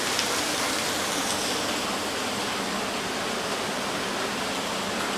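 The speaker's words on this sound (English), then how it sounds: "it's raining on top of the mountain." Steady, dense hiss of rain falling on a mountaintop, constant and enveloping with no pauses or voices.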